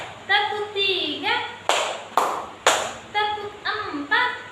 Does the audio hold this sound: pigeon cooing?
no